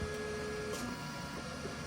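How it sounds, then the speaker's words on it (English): A 3D printer hums steadily as filament is loaded into a Mosaic Palette 3 Pro splicer, a continuous mechanical drone with a brief brighter whir partway through, close and alone without talk. "This is just getting a sense of how far it's got to run the filament here."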